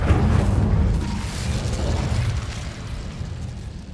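A fiery Incendio spell burst in Hogwarts Legacy, heard as a loud, roaring whoosh with a rumbling low end that fades gradually over several seconds, with no voices.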